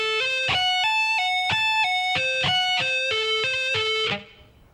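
An electric guitar plays a lick at slow tempo, a repeating run of clear picked and pulled-off notes with slight effects, close and alone, ending in a fading ring.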